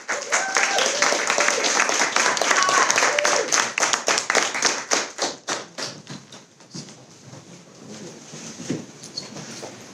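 An audience at a spoken word poetry event claps loudly together, the applause gradually thinning into a few scattered claps before fading away.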